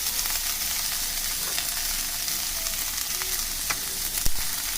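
Onions for chop suey fry in a hot pan, giving a loud, steady, hissing sizzle with a few sharp crackles and pops near the end. No one speaks.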